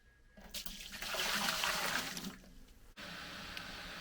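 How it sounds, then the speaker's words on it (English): Hot water pours over the grain mash for sparging during beer brewing in the German Alps, a steady rushing splash that swells loud for about two seconds, eases off briefly, then resumes as a constant flow. "So I take hot water and put it on here just to get the last sugars out of it."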